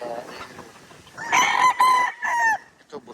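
A Boston Millionaire gamefowl rooster crows close by, one loud, clear cock-a-doodle-doo broken into several strained bursts, with softer clucking and faint background noise before and after.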